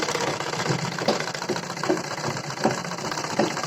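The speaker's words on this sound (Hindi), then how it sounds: "अब हम इसकी धार पर सिलाई लगा रहे हैं।" A sewing machine stitches along the edge of a sleeve, running as a continuous close mechanical whir with a steady rapid needle rhythm and slight pulsing.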